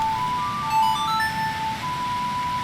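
A short tune of clear, pure ocarina tones plays a melody from the video game Ocarina of Time, notes sustained and melodic, alone without talk.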